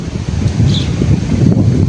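Strong wind from a sudden storm buffets the microphone in a low, continuous rumble, with a faint bird chirp briefly heard above it.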